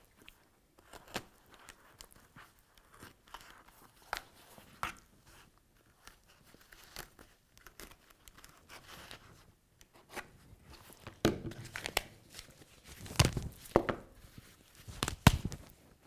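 Scissors cut along the seam stitches of a T-shirt being prepared for a quilt, giving sparse, quiet snips and rustles that grow into a denser, louder cluster of cuts near the end, with no talking.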